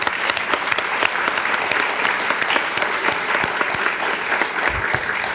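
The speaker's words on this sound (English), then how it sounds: "Give yourselves a big round of applause." Audience applause for volunteers at a 2005 awards ceremony, a loud, steady round of dense clapping from a full room that keeps going without pause.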